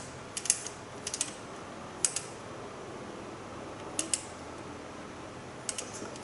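Rotary timer dial on a Siemens steam oven turned in small steps, giving sharp, crisp mechanical ratchet clicks in little clusters with pauses between them, close and distinct over a faint steady hum.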